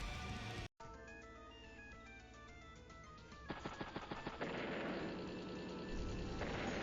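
Artillery and gunfire attacks in the video game Advance Wars: Days of Ruin come through as rapid, rattling bursts and booms layered over tonal game music and electronic chimes, growing denser toward the end.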